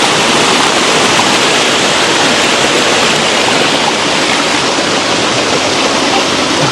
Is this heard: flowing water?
yes